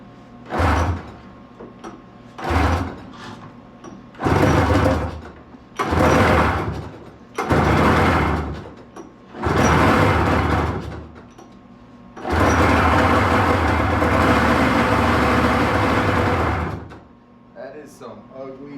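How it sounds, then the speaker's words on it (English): An XC 700 engine cranks repeatedly in rough, grinding bursts that start and stop, ending in one longer cranking run, loud and close, with a person talking in between. "Some ugly sounding crank noises."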